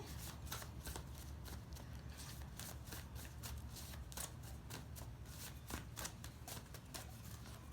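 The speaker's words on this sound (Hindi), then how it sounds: "ओके, कार्ड्स, 4 कार्ड्स गिर गए" Tarot cards being shuffled by hand, a steady run of soft riffling and flicking taps that continues closely and evenly throughout with no talking.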